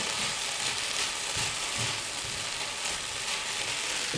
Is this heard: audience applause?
no